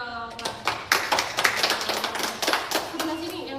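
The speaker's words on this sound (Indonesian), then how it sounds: "Oke, tepuk tangan dulu dong." A small live audience claps together, a burst of overlapping hand claps with a few sharper individual slaps rising and thinning out over a few seconds, with light chatter underneath.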